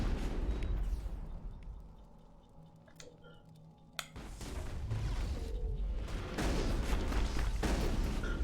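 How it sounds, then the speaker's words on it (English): A grenade detonates in Mass Effect with a sudden sharp crack, followed by a rumbling, crackling aftermath that grows louder amid ongoing combat noise. "Throw a grenade at the husk's feet now"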